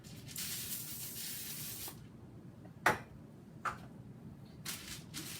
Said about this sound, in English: So we're going to spray here.